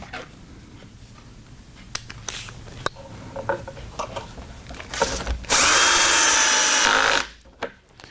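A power drill drives pocket hole screws into wood while building drawers, with scattered knocks and scrapes before a loud, sustained whir of a couple of seconds that cuts off abruptly, followed by a brief tap.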